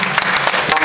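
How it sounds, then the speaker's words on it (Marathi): Audience clapping at a Marathi kirtan in Rahuri, a short burst of dense, close applause from a crowd. "आता त्यांच्याकरता टाळ्या वाजवा"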